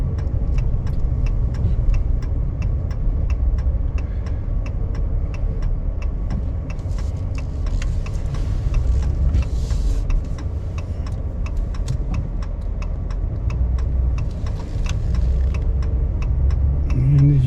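Steady engine and road rumble from inside a truck as it drives through the town streets of Bar Harbor, with a regular clicking tick running along beneath the constant drone and no talking.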